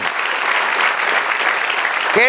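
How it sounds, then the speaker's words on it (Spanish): A church congregation bursts into applause during a Spanish-language sermon, a dense, loud, continuous clapping that holds steady throughout. "Den un aplauso al Señor"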